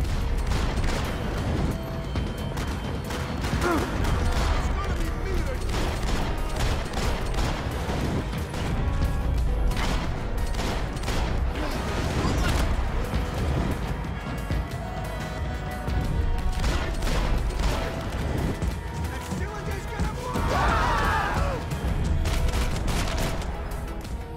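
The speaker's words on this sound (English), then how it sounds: "Gunfire over Hoboken." Gunfire rattles through a Max Payne 3 battle over Hoboken, dense bursts and crashing impacts layered over a constant loud game soundscape with no talking.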